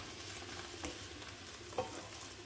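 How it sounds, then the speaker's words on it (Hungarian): Cabbage and rice are stirred in a hot pot, giving a steady soft sizzle with scraping spoon strokes and a brief clink, quiet and close with no talk. "Picit a káposztát is megmozgatjuk."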